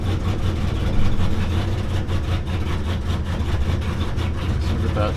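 An old barn-find truck engine runs steadily at idle right after its first start of the year, a loud, low continuous rumble with no talk over it.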